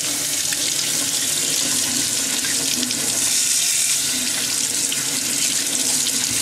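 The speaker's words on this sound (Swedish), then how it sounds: "Det är vatten." Water runs from a tap into a sink in a steady, continuous hiss, close and fairly loud throughout. No voices are heard.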